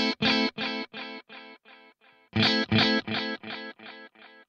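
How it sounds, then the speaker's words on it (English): Guitar played through a tape echo delay on a BOSS 500 series pedal with wow and flutter turned up: two bursts of repeats, each fading over successive echoes, clear and alone. "that is doing what a tape echo should do"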